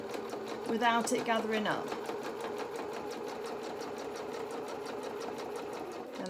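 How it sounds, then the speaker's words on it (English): A sewing machine stitches elastic onto fabric for doll bloomers, a brief burst of rapid needle chatter followed by a steady, even mechanical whir, with someone speaking over the start. "I'm going to hold on to the threads at the back, and I'm going to sew, following this fabric through"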